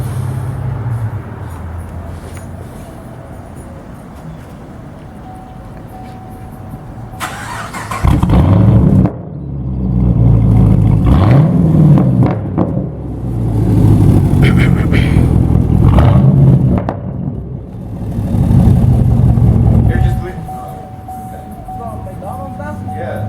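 Car fitted with a homemade Frankenstein custom exhaust at a cars and coffee meet, its engine roaring loudly in long surging bursts with quieter idle gaps between.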